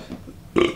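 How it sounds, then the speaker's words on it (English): A short, close, loud burp after drinking Sierra Nevada Hazy Little Thing IPA, following a moment of quiet background. "It just has a weird flavor to the burp."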